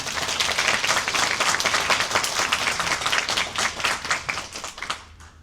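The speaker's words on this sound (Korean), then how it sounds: "큰 박수 부탁드리겠습니다" Steady applause from an audience at a university scholarship and development fund ceremony, dense and sustained for several seconds before thinning out at the end.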